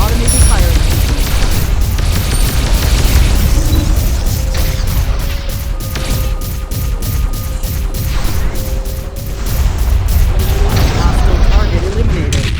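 Spaceship weapons firing in combat in the space game Starpoint Gemini 2: loud, rapid repeated blasts and booms pulsing in a steady rhythm, with brief tonal zaps over a dense rumbling bed.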